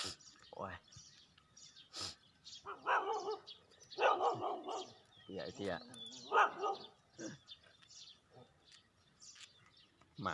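A dog barks again and again in loud bursts at close range, while people talk over and between the barks and birds chirp faintly in the background.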